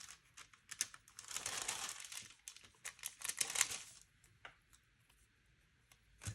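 Small planner stickers being peeled and placed on a vertical Happy Planner layout, with soft close crinkling and papery rustles, a faint peel in the middle, then light taps.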